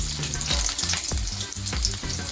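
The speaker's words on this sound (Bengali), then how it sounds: "এবার এটাকে একটু সুন্দর করে একটু ভেজে নেবো" Chopped garlic fries in hot oil in a pan for an egg bhurji, a close, steady sizzle with regular soft taps and scrapes from stirring.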